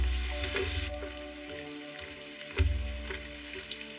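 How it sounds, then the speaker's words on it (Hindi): Cartoon rain begins to fall as a soft, continuous hiss and patter, with a couple of low thumps and a few scattered sharper drips. "अरे बारिश शुरू हो गई।"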